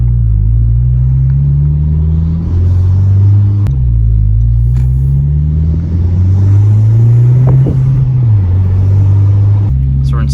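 A 2020 Honda Civic Si with a MAPerformance street exhaust cruises in second gear, its loud, close exhaust drone rising and falling with gentle throttle changes as people talk over it inside the cabin.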